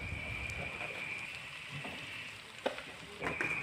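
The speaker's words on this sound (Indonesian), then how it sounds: "Selanjutnya tumis bumbu" Spice paste sizzles and crackles steadily in leftover frying oil, a continuous hiss with occasional sharper pops and faint stirring scrapes, close and alone without voices.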